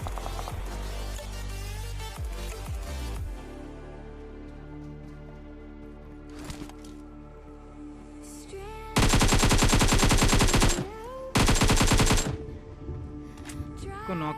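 Automatic gunfire in PUBG Mobile (KR version): two loud sustained bursts of rapid shots about a second or two long, standing out above a quieter background of in-game music and ambience.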